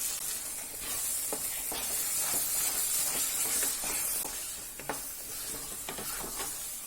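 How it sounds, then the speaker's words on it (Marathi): Spices for a dhaba-style chicken gravy (turmeric, chicken masala, garam masala, coriander powder) fry in a pan at home with a steady close sizzle, punctuated by a few scraping stirs, no voices. "आता हे सर्व मसाले आपण परत एकदा 1 मिनिटभर फ्राय करून घेऊया।"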